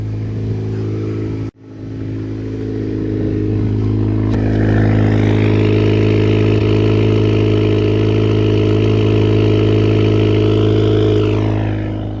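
A 2018 Honda Accord with a PRL front pipe exhaust starts up and settles into a loud, steady idle, its deep drone rising briefly as the revs climb before easing back.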